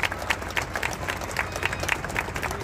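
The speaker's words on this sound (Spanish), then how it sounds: "vamos a dar un aplauso" Audience clapping at the opening ceremony of a meat and wine fair, a short burst of scattered, fairly close claps with a low hum underneath and some background murmur.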